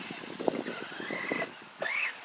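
A 1/8-scale Kraton RC car squeals its tires while steering, producing rising whiny squeals over a buzzing motor whir, close by and in short bursts.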